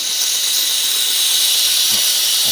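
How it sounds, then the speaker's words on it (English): A Silvercrest steam mop releases a steady, loud hiss of steam that holds unbroken through the whole stretch, with a few faint low knocks underneath near the end. "I'll turn the steam up and get a bit more out."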